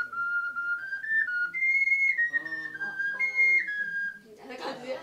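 An ocarina plays a short, clear melody of sustained, pure, flute-like notes, ending with a soft rustle.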